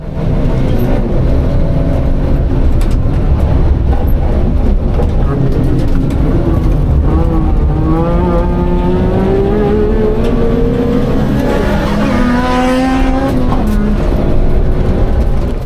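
Several small bumper-car-style cars whine and rev continuously, rising and falling in pitch as they race past, loud and close.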